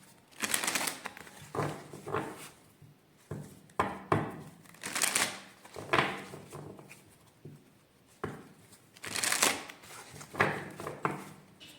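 Oracle cards being shuffled by hand in a quiet room, repeated soft riffling bursts of paper swishes and taps coming in uneven waves, close and fairly faint, with no talking.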